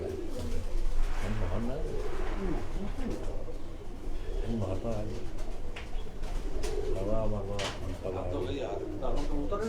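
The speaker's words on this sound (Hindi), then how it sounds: "ये प्रिंस कबूतर है।" Prince pigeons kept indoors, cooing in soft, repeated throaty bursts nearby, with someone talking over them.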